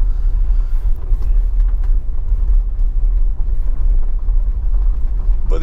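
A Tesla Model Y rolls along a gravel track near a Scottish harbour village, giving a steady, loud low rumble of tyres on loose stones with constant road noise throughout.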